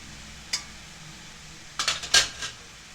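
A spoon clinks and scrapes against a metal pot while spices are mixed into stuffed chili kadhi, giving one early tap and then a short cluster of clatters near the end over a quiet background.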